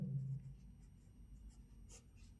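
A pen scratches faintly on paper while a math solution is written out, in soft, irregular strokes with a few brief taps. No one speaks.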